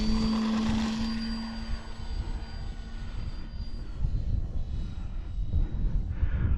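An E-Flite Valiant RC plane takes off, its electric motor whining loudly at first and then fading into a softer, steady drone as it climbs away outdoors.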